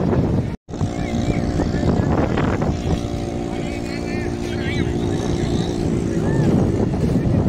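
A motorboat runs at Shivrajpur beach near Dwarka, its droning engine holding a steady tone under voices and crowd noise on the shore.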